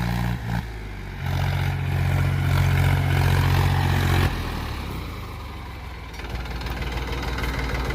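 A Mahindra 265 DI tractor's diesel engine runs loud and close with a steady low chugging rumble, revving harder for a few seconds before settling back to a rough idle.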